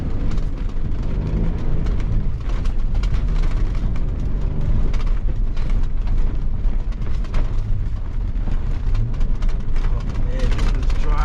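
A V8 rallycross car at a reindeer rallycross event roars continuously and loudly as it accelerates, a dense, steady engine drone filling the whole stretch while a driver talks over it.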